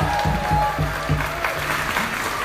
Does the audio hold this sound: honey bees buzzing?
no